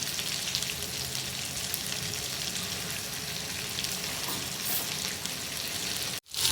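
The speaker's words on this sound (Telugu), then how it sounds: "లాస్ట్లో ఇలా పట్టించేసి ఫ్రై చేసుకోండి." Small fish pieces coated in masala fry in hot oil, giving a steady loud sizzle and crackle that goes on without a break until it cuts off abruptly near the end.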